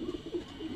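A laced Saharanpuri pigeon gives a soft, low, rolling coo in a few short pulses, close by, with faint background noise and no talking.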